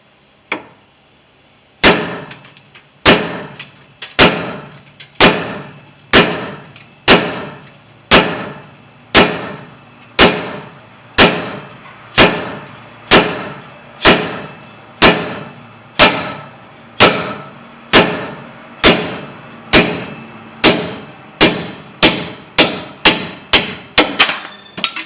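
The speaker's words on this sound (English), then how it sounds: "I'm just taking this hammer, and I'm just going to knock it out" Repeated sharp metallic hammer blows knocking out a lower ball joint on a 2008 Chevy Silverado 1500 4X4, about twenty strikes at a steady pace that quickens toward the end, each ringing briefly before the next.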